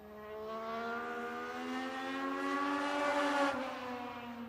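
Race car number 35 at Redwood Acres Raceway on a fair race night, a single steady engine drone rising in pitch and growing louder as it approaches, then easing slightly, with no talk.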